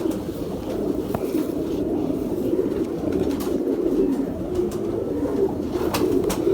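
Sialkoti pigeons coo softly and continuously nearby, with faint clicks and rustles in the background.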